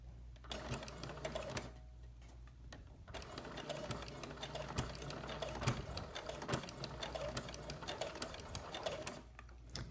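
Home sewing machine stitching a quilted pot holder, a steady rapid mechanical whir with a fast stitching patter that runs continuously, pausing briefly once, close and moderately quiet.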